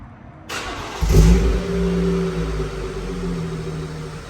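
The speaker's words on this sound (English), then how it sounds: "let's go ahead and do the first startup." A BMW M240i with a B58 engine fires up for the first time after a downpipe and catch can install, cranking briefly before catching and settling into a steady, close idle.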